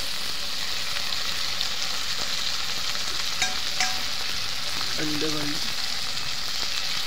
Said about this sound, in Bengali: একটু ভাজা ভাজা করে নিই। দিয়ে দেবো রসুন, এটা আর এটা আদা